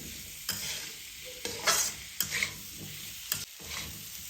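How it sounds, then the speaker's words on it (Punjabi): Spiced potatoes stir-fried over a high gas flame, with a steady sizzle broken by sharp scraping and stirring strokes every second or so. Close and fairly loud, with no voices. "ਸੇਕ ਤੇ ਆਲੂ ਨੂੰ ਆਪਾਂ 4-5 ਮਿੰਟ ਲਈ ਭੁੰਨ ਲਵਾਂਗੇ"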